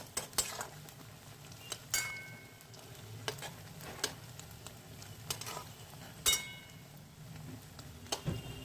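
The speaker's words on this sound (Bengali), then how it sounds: "ছানার বড়াগুলোকে উল্টে পাল্টে লাল লাল করে ভেজে নিচ্ছি" Chhana vadas, cottage-cheese fritters, frying in a pan and being turned over, with a soft sizzle under sharp metal spatula clinks and scrapes at irregular intervals, close and fairly quiet, no talk.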